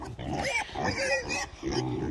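Red wattle pigs grunt and squeal in short bursts at feeding time on a farm, loud and close, with no talk in the gaps.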